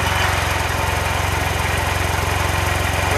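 A freshly rebuilt small engine with a Morgan carb tune runs loud and close at a steady, throbbing idle, with no talking.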